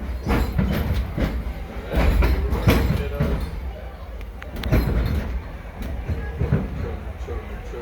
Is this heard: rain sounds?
no